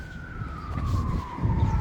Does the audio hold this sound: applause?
no